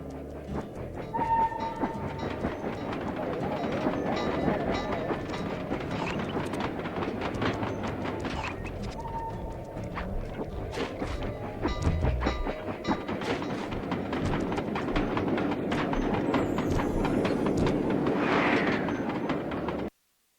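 A moving train in the video game Sly 2 rumbles and clatters steadily along the rails, loud and close for the whole stretch, with metallic clicks, brief whistle-like tones and no talk.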